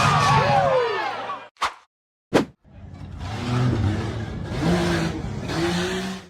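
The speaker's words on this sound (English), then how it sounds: "The red-framed buggy accelerated aggressively to climb a narrow, rugged dirt hill." A red-framed off-road buggy climbs a narrow, rugged dirt hill on a 4x4 hill-climb course, with a loud, close engine revving in long sustained bursts that rise and fall after a couple of brief sharp knocks.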